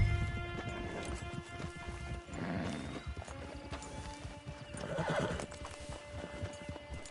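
Horse hooves clip-clop at a quick galloping pace in Red Dead Redemption 2 Online, with a horse whinnying partway through, amid a busy game soundscape.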